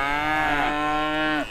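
Cattle moo in their field: one long, loud, close bellow with a rising then falling pitch that holds for over a second before cutting off, with no voices.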